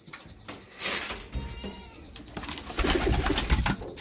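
Pigeons coo and flutter close by in a loft, with soft wing flaps and shuffling among a small flock. No one speaks.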